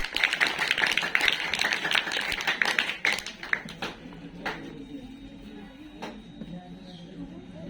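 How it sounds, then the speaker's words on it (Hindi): Students at a school assembly on girls' education clap loudly together, a dense burst of applause that fades after a few seconds into scattered claps and faint voices. "एक बार जोरदार तालियां बजाएं।"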